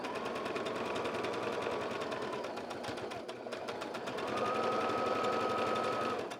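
A sewing machine stitches quilt pieces at a very small stitch length, chain-piecing from a leader. The motor runs as a steady, close, continuous whir, swelling a little louder and higher toward the end.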